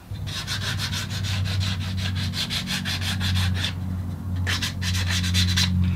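Rhythmic back-and-forth rasping of sandpaper rubbing on a routed wooden bowl, rounding its edge, close and steady, with a brief pause before the strokes resume.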